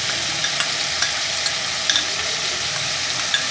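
Ground ginger, garlic and green chili paste going into mutton karahi frying in a pan, a loud steady sizzle with a few light taps of a spoon as it is stirred in.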